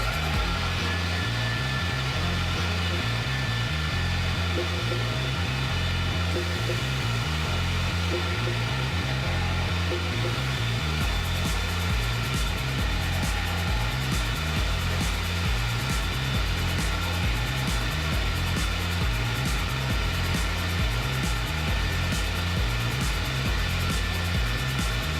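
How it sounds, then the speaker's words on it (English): A Polivac Predator MKII carpet extractor running continuously, a loud steady motor drone and suction whine close by, unbroken for the whole stretch with a slight change in tone partway through. "we'll start the machine"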